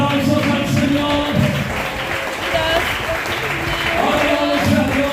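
A church congregation claps and applauds together in sustained, dense applause during a worship service, loud and continuous, with voices calling out over it.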